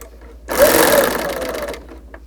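A BERNINA L850 sewing machine runs in one steady burst of rapid mechanical stitching for about a second and a half, close and clear, starting and stopping abruptly against a quiet room.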